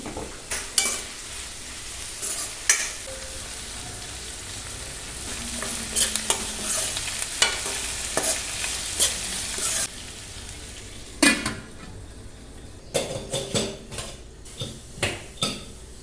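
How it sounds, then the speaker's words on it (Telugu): Onions and green chillies sizzle in a pan while a utensil stirs and scrapes, with sharp irregular clanks against the metal, no voices. "ఫస్ట్ పోపు వేసాను, దాని తర్వాత ఆనియన్స్, పచ్చిమిర్చి అయితే వేసాను. ఇంకా అవి వేగుతూ ఉన్నాయి"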